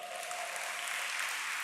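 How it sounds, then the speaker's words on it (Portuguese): Church congregation applauding during a sermon, a steady even wash of clapping held at a constant level throughout, with a faint tone running under it at the start. "Aplaude ao Senhor."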